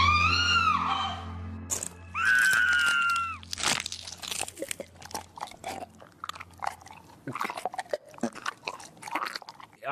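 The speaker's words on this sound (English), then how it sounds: "Some very upsetting mouth chewing sounds as he chomps down on her" Wet, crunchy chewing and chomping from a film cannibal scene, close and loud, with irregular bites and crunches following a screaming voice at the start.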